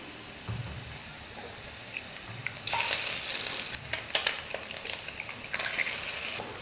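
Three eggs fry in a little oil in a pan and are stirred into a crumbly scramble, with a hissing sizzle that swells midway and scraping stirs, close and moderately loud.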